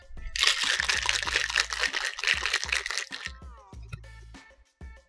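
A vodka Metropolitan martini shaken in a cocktail shaker, a dense, steady rattle of ice sloshing and knocking for about three seconds, then a few scattered clinks and taps as the shaking stops, close and fairly loud with no talk.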